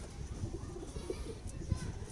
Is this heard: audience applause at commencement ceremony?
no